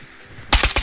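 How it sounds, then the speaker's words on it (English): Gunfire from the video game Ghosts of Tabor: three sharp, loud shots in quick succession after a quiet stretch, fired close by with a short echo trailing each one. "Those shots are like just on the other side of the building."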